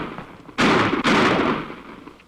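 Exploding ammunition cracks inside a stove, two loud gunfire-like bursts in quick succession with a decaying rumble after, near and sharp.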